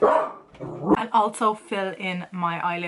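Pet dogs bark and yip in a series of sharp, close calls beside a person, who speaks briefly at the start over the noise.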